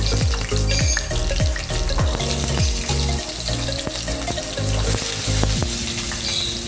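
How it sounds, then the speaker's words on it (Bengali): Pieces of cut potato fry in hot mustard oil for an echor chingri dish, giving a loud, close, continuous sizzle and crackle with occasional light clatter and no talking. "সর্ষের তেল গরম হয়ে গেলে এর মধ্যে দিয়ে দিচ্ছি আগে থেকে কেটে রাখা আলুর টুকরো।"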